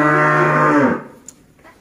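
A cow on a cattle farm with breeding cows lets out one loud, close moo that fades out after under a second, followed by quiet farm ambience with no talk.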